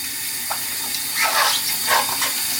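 Running tap water splashes over a Croc shoe as it is rinsed, a close, steady hiss with brief surges of splashing.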